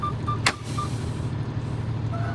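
Truck warning beeps with the parking brake on: short, evenly spaced tonal beeps sound over a steady, loud idling engine rumble, with a brief sharp burst near the start.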